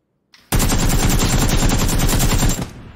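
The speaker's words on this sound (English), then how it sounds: "I shot at him once." Loud automatic gunfire in PUBG, a close rapid burst of evenly spaced shots lasting about two seconds, starting abruptly and cutting off with a short tail.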